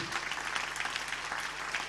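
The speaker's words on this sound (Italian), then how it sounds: "davvero gli applausi" Applause at a Paralympic sports gala in Veneto, a steady, dense wash of clapping from a crowd that holds at an even level throughout without a break.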